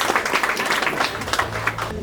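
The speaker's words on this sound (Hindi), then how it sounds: "जोरदार ताली हो जाए पंडित जी के लिए।" Applause for the pandit at an engagement ceremony: a crowd claps in a steady, dense patter for about two seconds, moderately loud, with a low hum running underneath.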